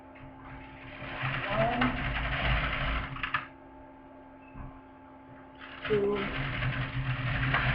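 An LK150 knitting machine carriage slides across the bed knitting rows of tuck stitch, giving steady close mechanical whirring runs broken by a short pause, with a voice counting softly over it.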